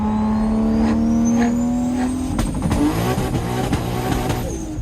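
A modified Toyota Supra with a twin-turbo 2JZ-GTE engine revs hard, climbing to a high-pitched scream, then shifts and keeps pulling with a loud, rough roar close by.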